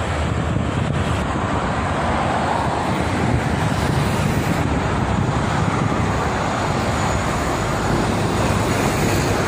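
Heavy traffic with trucks on the Jakarta-Cikampek toll road, a dense continuous roar of passing vehicles buffeted by strong wind noise on the microphone, with no clear individual pass-bys.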